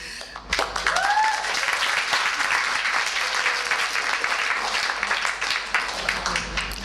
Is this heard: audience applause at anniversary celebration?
yes